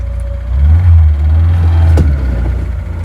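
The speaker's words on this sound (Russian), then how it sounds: "Нет времени до конца прогревать машину. Ну что, будем пробовать выехать?" A car engine idles steadily up close, then swells slightly as the car begins to pull out, still not fully warmed up, with a deep continuous rumble and no talk.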